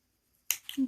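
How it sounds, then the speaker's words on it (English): Scissors snip through cotton yarn while crocheting a bowl cozy, one short crisp cut after a moment of silence, close and fairly quiet. "Get our scissors"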